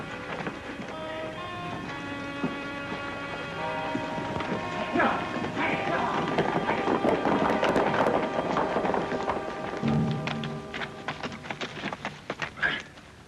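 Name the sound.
horse hooves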